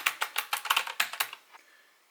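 Rapid typing on an Azio Retro Classic Bluetooth keyboard, about a dozen crisp, loud typewriter-like clacks in an uneven quick rhythm that trail off into a faint tail.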